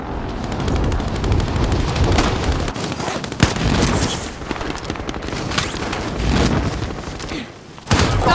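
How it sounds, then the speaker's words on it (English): Gunfire in Call of Duty Warzone during a live event, dense and continuous, with overlapping shots and bursts throughout and a few sharper cracks standing out. "Stop shooting at me."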